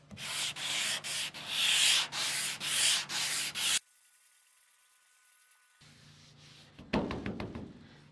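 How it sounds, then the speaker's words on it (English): Rhythmic strokes of a block sander with coarse paper scraping across a truck's metal panel, about seven passes, then a quiet pause before a few quicker rubs. "I'm just gonna hit it with a block sander real quick with some coarse stuff."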